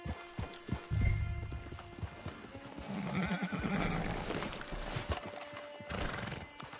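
Hooves clop along in an uneven rhythm, close by, with a horse whinnying and snorting at moments; faint game-like ambience underneath, from Red Dead Redemption 2.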